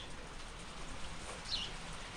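Steady rain falling outside a shelter, a constant soft hiss of drops with no breaks, heard from a little distance and fairly quiet.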